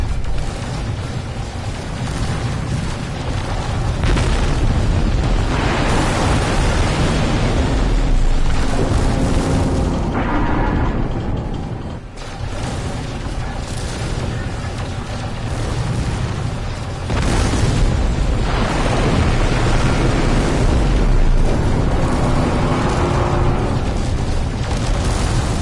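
Ship cannons fire in the No Man's Sky space game, producing a dense, continuous roar of booming blasts and bursts that stays loud throughout, with only a brief dip in intensity partway through.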